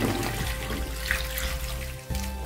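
Running water splashes and swirls steadily as chopped raw mango is rinsed in a bowl, with a brief dip near the end.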